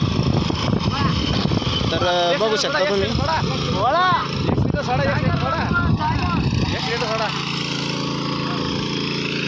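Power weeder tiller engine with rotor running in a cotton field, a steady loud motor drone throughout, with someone talking over it for much of the stretch.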